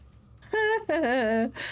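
A cat meows twice in the Murdered: Soul Suspect video game, two short, clear, close mews with a brief gap between them.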